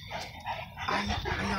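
A Saint Bernard dog gives soft whimpering and yipping vocalizations up close, brief and muffled, over steady background noise.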